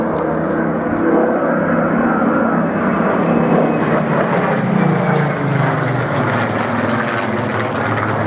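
A Spitfire propeller fighter passes at the 2014 Dawlish air show, its engine a loud, continuous roar that holds steady throughout with a slow shift in pitch as it goes by.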